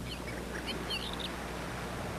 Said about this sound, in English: I can hear the birds for some reason. Maybe it's coming through your mic